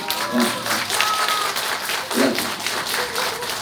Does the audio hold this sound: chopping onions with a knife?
no